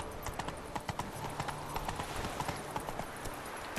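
Horse hooves of Roach, the horse in The Witcher 3: Wild Hunt, clip-clopping in a quick steady gallop rhythm over a continuous game background.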